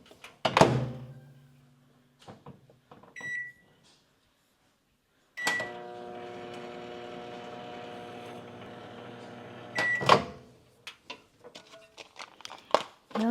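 A microwave oven hums steadily for about four and a half seconds while melting chocolate for chocolate-covered strawberries, its run opened and closed by beeps, with door thunks and handling clatter before and after.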